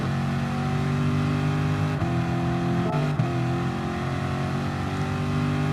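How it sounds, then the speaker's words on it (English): Race car engine in GT Sport on the Monza circuit, a steady loud droning note that dips sharply at each downshift around two and three seconds under braking, then holds its tone, with no talk. "The downshift allows the engine brake a little better."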